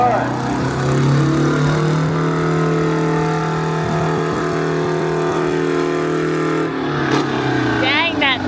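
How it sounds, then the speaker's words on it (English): A loud tractor engine runs steadily, droning and rumbling close by, while people talk over it; the engine note shifts briefly near the end. "you see how loud this tractor is?"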